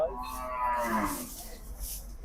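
Cattle at the Gabtoli livestock market in 2025 let out a drawn-out, wavering moo close by amid a murmuring crowd background.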